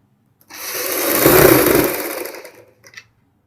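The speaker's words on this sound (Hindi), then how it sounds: "और एक साइड इस प्रकार सिलाई लगानी है" A sewing machine stitches one side of a zip onto a kurti, running steadily for about two seconds with a loud, even whir before stopping, followed by a couple of faint clicks.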